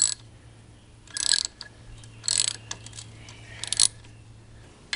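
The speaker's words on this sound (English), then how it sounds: "Get them started. I'm gonna finish these off with a socket." Socket wrench ratcheting bolts on a plastic Tohatsu-Nissan outboard water pump housing, heard as three or four short bursts of metallic clicking close up over a faint steady hum, with quiet gaps between.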